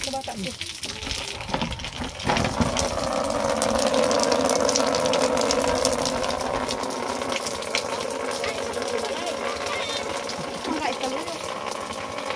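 Rainwater pouring off tin roofs into the street during a downpour, a steady rushing gush that swells after the first couple of seconds and holds fairly loud.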